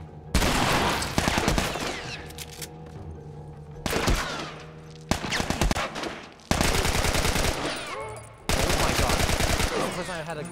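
Sustained automatic gunfire in The Last of Us, long loud bursts of rapid shots broken by short pauses, close and dense, with no talking.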